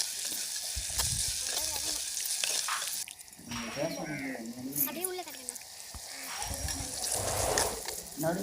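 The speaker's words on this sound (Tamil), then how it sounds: "கொஞ்சம் தேவையான அளவு சால்ட்டு போட்டு நல்லா வதக்கிடுங்க." Onions sautéing with salt, coriander leaves and curry leaves in a pan for a South Indian fish curry give a steady sizzling hiss throughout, with a voice talking over it for much of the time.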